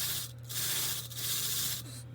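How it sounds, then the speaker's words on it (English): Steady abrasive rasping of a sanding block rubbed back and forth over a surface, close and continuous with brief pauses, no voices. "hitting it with the sanding block"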